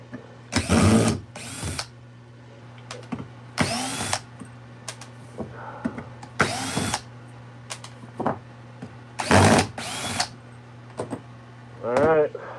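A power drill backing a screw out of a woodturning piece, loud whirring bursts in several separate runs, near, with short pauses and talk between them.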